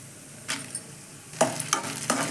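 Lentils roast in oil in a deep pan (vadai chatti) for kongu-style paruppu chutney, a soft background sizzle with three or four sharp scraping stirs of a spoon.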